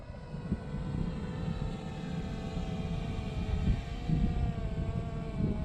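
A steady buzzing hum from a RUKO F11 PRO drone in flight, continuous and fairly distant, with faint rumbling underneath and no voices.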